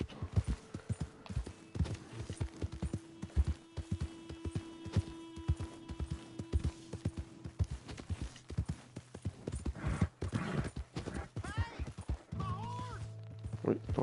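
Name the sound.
horse hooves in video game Red Dead Redemption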